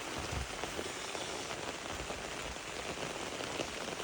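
Rain falls steadily on a garden, a dense, even hiss of drops on surfaces that stays close and unbroken throughout, with no voices.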